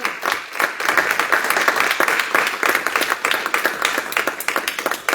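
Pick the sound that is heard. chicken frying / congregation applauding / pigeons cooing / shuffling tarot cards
congregation applauding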